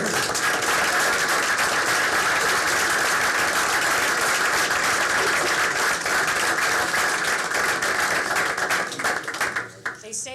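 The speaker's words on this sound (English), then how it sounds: "another round of applause for this" An audience at a school board meeting gives a round of applause, loud and sustained clapping filling the room that thins and trails off near the end.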